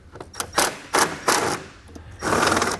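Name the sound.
socket wrench ratcheting to remove a stud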